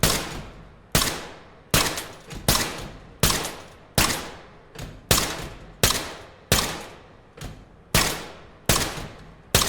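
Gunfire from a weapon in the tactical shooter Ready or Not, about a dozen sharp, loud single shots at a steady, unhurried rhythm, each with a short decaying echo and no voices.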